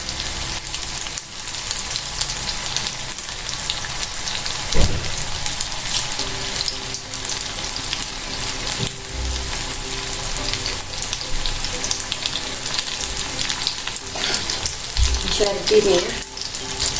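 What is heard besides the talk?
paneer pakora frying in oil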